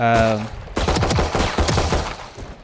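Rifle gunfire at practice bots in the video game Valorant, a loud rapid burst of several shots following a brief tonal game sound, close and dominant.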